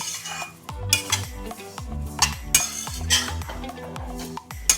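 Roasted mango seed mukhvas stirred in a metal pan over a medium gas flame, a utensil scraping and clinking against the pan in quick, uneven strokes, loud and close with no talking.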